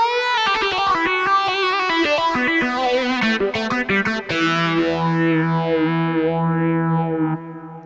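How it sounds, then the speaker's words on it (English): Distorted electric-guitar voice on a Ketron SD90 keyboard plays a quick run of notes, then sustains heavy, gritty chords that ring out and fade. "now let us go again to keyboard control and add some distortion"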